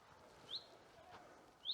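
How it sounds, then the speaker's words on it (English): Two short, high bird chirps a second apart over quiet outdoor background hum on a hiking trail, fairly faint and distant. "You can hear the bird noise."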